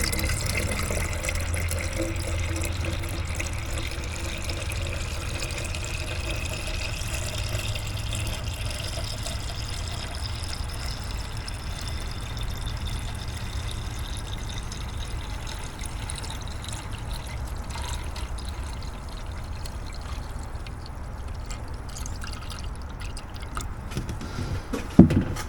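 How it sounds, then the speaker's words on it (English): Water pours continuously into a 2010 Chevy Silverado radiator, a soft steady trickle and gurgle heard close and fairly quiet for the whole stretch, ending with a small clunk. "And I'll go fill it up with water. Put a gallon in."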